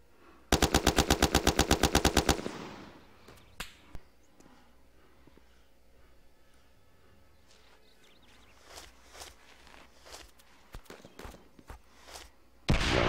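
Gunfire in the video game ArmA opens with a loud, rapid automatic burst lasting about two seconds, followed by scattered fainter single shots and distant reports over a low background.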